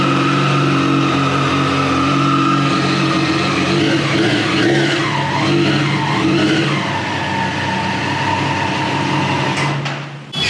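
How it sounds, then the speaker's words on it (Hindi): An inline three-cylinder motorcycle engine runs loudly at a steady idle, then revs up and down in a few quick blips before settling. "इनलाइन 3 इंजन का साउंड ऐसा लग रहा है कि क्लीन है"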